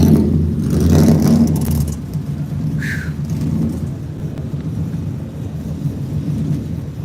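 A powerful Mustang engine at a car show rumbles loudly and steadily with deep low-end roar, swelling early then holding a throaty idle-like growl; a brief higher whine cuts through midway.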